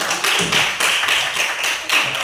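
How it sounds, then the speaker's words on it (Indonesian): A group claps together in a steady burst of applause, brisk and fairly close, with no talking over it. "tepuk tangan untuk kelompok 1"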